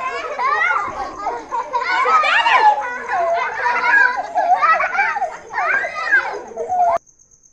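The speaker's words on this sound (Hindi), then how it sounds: "तो जी बच्चों का शोर शराबा आप लोगों ने सुन लिया है जी" Children at a family gathering at a relative's home shout, laugh and chatter noisily together, a continuous loud burst of overlapping young voices that stops abruptly near the end.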